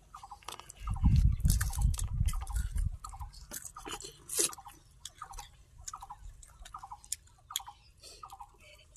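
Someone chewing a home-cooked meal of khichuri with ghyat, papad and fried vegetables on a rainy morning, with repeated close crunchy bites, heaviest early on, over a low background.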